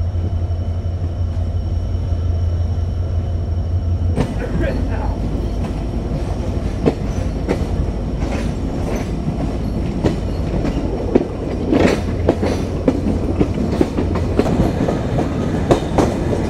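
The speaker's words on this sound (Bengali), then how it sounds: "চুয়াডাঙ্গা রেলওয়ে স্টেশনে আমাদের ট্রেন তার নির্ধারিত যাত্রা বিরতি শেষ করে এখন ডিপারচার নিচ্ছে চুয়াডাঙ্গা থেকে" The Simanta Express night train pulls out of Chuadanga railway station, heard from on board: a steady loud rumble with rhythmic clickety-clack of wheels over rail joints and occasional sharp squeals, with no talking.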